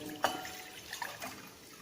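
Water splashes and trickles briefly into a cup while preparing dough for fried kozhukattai, with a few soft drips and liquid sounds close by.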